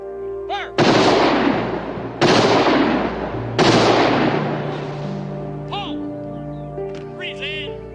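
A firing squad fires three loud rifle volleys a few seconds apart in a 1967 film, each a sharp, close crack with a ringing tail. Faint chirping and a low hum sit between the shots.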